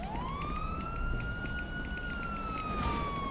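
A police siren in GTA 5 sounds a single long rising and held wail, fairly loud and close, over low street rumble with no voices.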